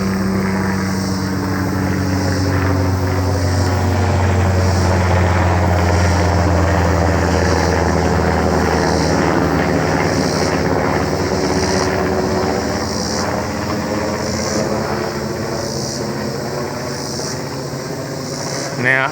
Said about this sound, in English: I've been seeing those kind of military helicopters and crafts all day